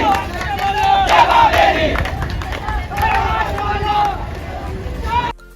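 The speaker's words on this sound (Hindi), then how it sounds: "तो अभी तो बहुत ज़्यादा भीड़ है।" A large crowd of pilgrims at the Ramdev ji fair fills the air with loud, continuous babble and shouting voices, close and dense throughout, with no single voice standing out.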